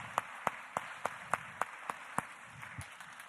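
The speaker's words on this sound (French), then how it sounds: "Donc je vous demande déjà de les applaudir dès maintenant parce que l'exercice n'est pas facile." An audience claps in a steady unison rhythm, evenly spaced sharp claps over a soft bed of scattered applause, the beat breaking up near the end.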